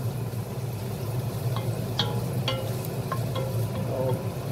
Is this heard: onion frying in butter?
yes